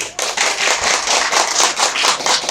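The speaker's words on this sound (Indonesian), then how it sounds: "Ya, tepuk tangan dulu" A group of people at a gathering clap together in a steady, rhythmic, loud round of applause, close and continuous, with no talking over it.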